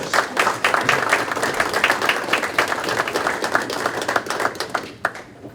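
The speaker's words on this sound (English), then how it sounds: "I just want to give everybody a round of applause, all these players" Audience applause for players at a Metropolitan Amateur League awards banquet, dense steady clapping from a roomful of people, loud and close, fading out in the final half second.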